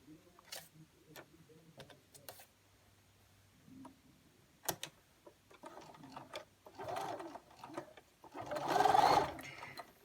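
A sewing machine stitches the lining of a fabric face mask with a very narrow seam, running in short, quiet bursts separated by pauses and small mechanical clicks, ending in a longer, steadier run.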